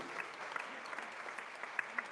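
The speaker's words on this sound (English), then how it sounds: "A massive round of applause for those guys, please." A round of applause from the audience at a football awards evening, steady dense clapping throughout with a few sharper claps standing out near the end.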